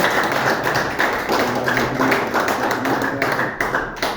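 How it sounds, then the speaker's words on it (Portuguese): A church congregation claps for Jesus in a steady, rhythmic beat, the applause dense and fairly close in a reverberant hall. "as palmas são para Jesus"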